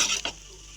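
A spatula stirs okra and egg stir-fry with fresh coriander leaves in a pan, giving a brief scraping sizzle that fades quickly into quiet.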